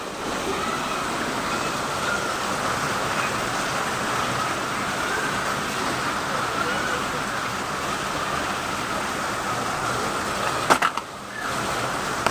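Heavy rain pouring down with rushing flood water, a dense, steady roar that fills the whole stretch, with a brief bump near the end.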